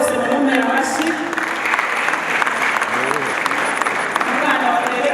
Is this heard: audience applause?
yes